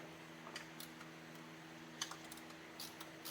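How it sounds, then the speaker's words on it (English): Torque wrench clicking as bolts are tightened on an old truck being restored, a few sharp faint clicks spaced irregularly over a steady low hum, no talking. "Torquing, click, click."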